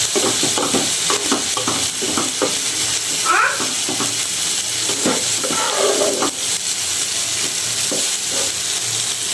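Snake gourd and potato frying in a pan, a steady sizzle broken by repeated scraping stirs and clatter from the spatula, with a brief voice-like chirp in the middle.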